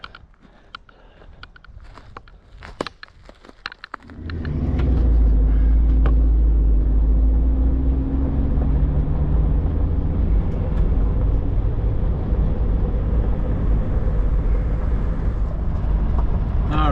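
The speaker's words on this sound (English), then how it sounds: "All these cars and trucks plowing by." Cars and trucks plow past on a dusty road, a loud, steady low rumble of traffic rising abruptly after a few seconds of quieter ambience and holding close and heavy to the end.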